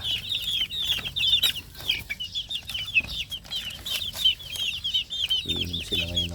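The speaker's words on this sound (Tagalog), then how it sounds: "eto na mga sisiw" A group of young chicks under coccidiosis treatment chirp constantly, a dense chorus of high, rapid peeps up close, with a few soft low clucks and brief handling noises.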